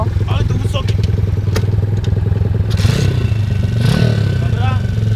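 Enduro motorcycle engine runs loud and close with a steady throbbing idle and brief revs, with clatter and scraping around it as people talk over it.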